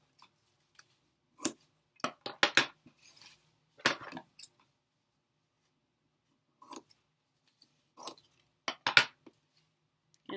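Scissors snip around the edges of a fish weaving in quiet bursts of crisp clicks and cuts, with short pauses between trims and no talk.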